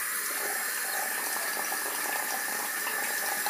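Tap water running steadily into a sink during rinsing off a face scrub, a continuous, close, bright splashing hiss with no voices.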